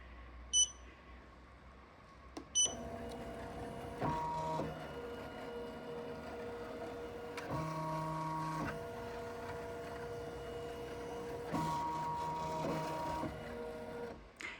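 Ricoma EM1010 embroidery machine, fitted with a magnetic hoop, traces its design area: steady whirring motor tones come in several stretches, with a few sharp clicks early on and no voices.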